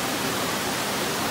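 Waterfall on a farm in Brazil's Federal District, a dense, steady roar of falling water that fills the whole clip, loud and close.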